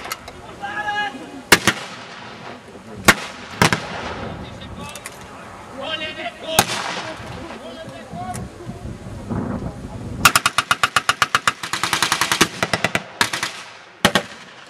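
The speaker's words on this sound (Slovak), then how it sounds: "streľbu, ktorú vedú nemeckí obrancovia dediny" Gunfire from Karabiner 98 infantry rifles at a World War II battle reenactment in Nitra, with sharp, scattered single shots and a later rapid burst of firing, while a narrator talks over it.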